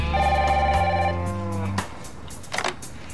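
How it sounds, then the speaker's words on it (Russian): A telephone rings in a TV drama scene with a steady, tonal ring lasting under two seconds, followed by quiet room ambience. "Телефон звонит."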